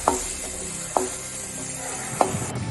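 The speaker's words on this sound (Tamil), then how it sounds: "வெங்காயம் சேர்த்ததும் வெங்காயத்தை நல்லா வதக்கி விடுங்க." Onions sauté in a pan for bread upma, giving a soft steady sizzle with three sharp spatula clicks against the pan.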